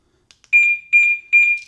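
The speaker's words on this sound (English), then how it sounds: "Now the alarm is on." The alarm on a BMW K 1600 B touring motorcycle arms with a couple of soft clicks and then three loud, evenly spaced electronic beeps. The beeps are close and clear, with no talking.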